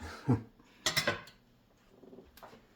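A frying pan holding western omelet eggs is given a few quick shakes on the stovetop, producing brief metallic scrapes and clanks in two or three short bursts, fairly close and quiet.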